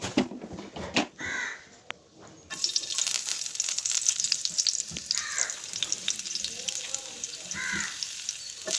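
Garlic fries in hot coconut oil in a pan, starting with a quiet bump and then building into a steady crackling sizzle, while crows caw repeatedly nearby over it.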